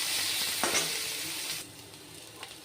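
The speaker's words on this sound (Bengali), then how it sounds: "তারপরে পেঁয়াজ দিলাম পেঁয়াজ এটাকে খুব ভালো করে ভাজবো" Onions fry in a pan with a steady, loud sizzle and hiss that drops noticeably partway through. A few faint clinks rise over the sizzle.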